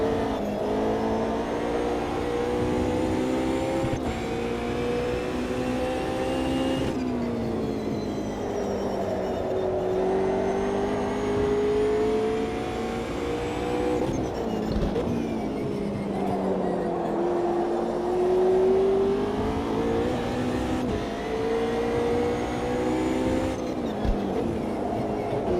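A McLaren DTM race car in the racing game Automobilista 2 drones steadily at high revs, rising and falling through gear shifts and braking over nearly half a minute, loud and continuous.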